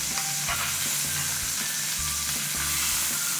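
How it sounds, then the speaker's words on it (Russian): Flour dry-frying in an ordinary skillet makes a continuous close sizzle, broken by scraping stirs and clicks at a regular pace, with no speech. "на обычную сковородку вы жарите муку в течение 5 минут для такого орехового вкуса"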